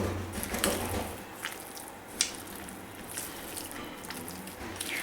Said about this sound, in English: I'm going to pour in our melted butter inside